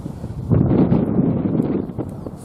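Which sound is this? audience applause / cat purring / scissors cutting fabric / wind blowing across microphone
wind blowing across microphone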